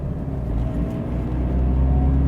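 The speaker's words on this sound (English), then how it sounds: "Sounds good as well with that rear muffler." A modified Toyota GT86's low, throaty exhaust hum through a rear muffler, steady and close, rising slightly in loudness toward the end.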